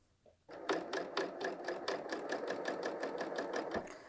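A BERNINA L 890 sewing machine stitches a woven top, starting after a short pause and running steadily up close with a fast, even needle rhythm and a faint tap near the end.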